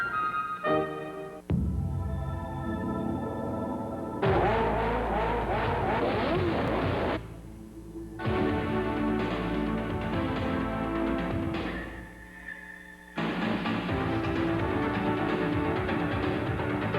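An Acura NSX sports car roars through rising revs and gear changes, with tire squeal and abrupt breaks between loud, close engine bursts.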